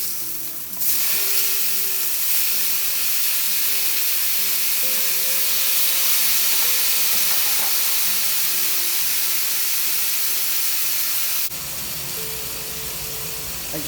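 Tomatoes hit a hot pan already holding chopped garlic for a crispy okra and potato fry, raising a loud, steady sizzle and hiss that runs unbroken for most of the stretch, with a sharp cut near the end.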